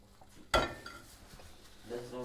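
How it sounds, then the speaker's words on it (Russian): A metal pot is pulled out among clattering pots and pans in a home kitchen, a sharp clank followed by softer rattling and knocks, with a voice speaking faintly in the background. "Доставай кастрюлю."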